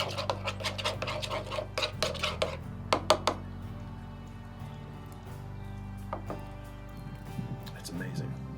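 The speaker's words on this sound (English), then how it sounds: "Drop in our Texas relish. And give that a mix." Texas relish being mixed in a bowl for smash burgers, with scraping and clinking of a utensil against the dish, a quick flurry of strokes at first, then sparse wet stirring under a steady low background.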